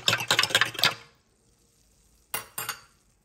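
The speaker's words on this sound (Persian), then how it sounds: "بهش آب اضافه می کنم و خوب همش می زنم" Spoon stirring water into a traditional Persian yogurt drink in a bowl, a quick run of scraping, clinking strokes for about a second, then a pause and two more short stirs, close and fairly quiet, with no talking.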